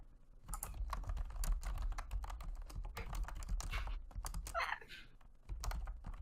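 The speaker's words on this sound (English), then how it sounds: "Oh, she's already typing." A cat walks across a computer keyboard, producing irregular bursts of close, clattering key presses with uneven pauses, fairly quiet and with no talk over it.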